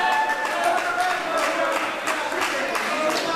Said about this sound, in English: Fans applauding these two.